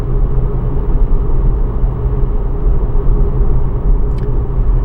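Car on a foggy road heard from inside a slow-moving vehicle, a loud steady low engine and road rumble throughout with no clear pass-by swell.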